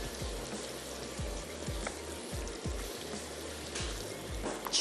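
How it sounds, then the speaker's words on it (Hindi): Saag kofta masala fries in a pan, a close, steady sizzle and crackle with soft low stirring thumps recurring irregularly throughout. "बस मैं इसको थोड़ा सा भून लेती हूँ"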